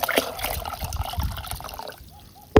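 Diluted fruit juice and water poured out for watering plants, a close trickling, splashing stream that runs steadily for about two seconds, then stops, ending with a sharp knock.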